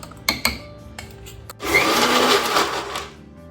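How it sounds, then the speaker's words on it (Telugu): A few sharp clicks and knocks, then a mixer grinder whirs loudly for about a second and a half grinding mature gongura leaves before winding down. "ఎందుకంటే గోంగూర కొంచెం ముదురుగా ఉంది కాబట్టి నేను మిక్సీకి వేస్తున్నా."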